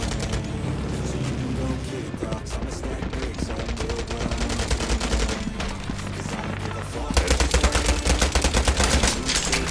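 Rapid gunfire from the World War Heroes video game: dense machine-gun bursts and shots crackle almost nonstop and grow louder and heavier near the end.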